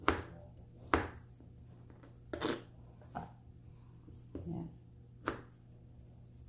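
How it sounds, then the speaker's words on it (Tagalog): A knife slices through large pieces of jackfruit with a handful of sharp, separated chops against a board, each fairly quiet, with a short spoken word in between. "Kasi sobrang malalaki to guys, kaya hinihiwa ko sa tatlo"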